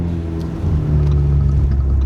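A deep, loud modified turbocharged Ford Mustang EcoBoost engine rumbles steadily at idle, then swells slightly as it revs, a throaty low drone throughout.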